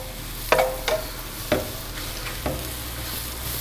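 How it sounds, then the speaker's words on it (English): Mushrooms sautéing in a pan for risotto, a loud steady sizzle near at hand with several distinct spatula knocks and scrapes spaced about a second apart. "And you want to saute these up to a nice golden brown color."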